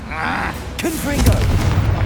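The Confringo fire spell bursts in Hogwarts Legacy with a deep, rumbling boom under a brief spoken voice, a low, loud blast that lingers with crackling debris.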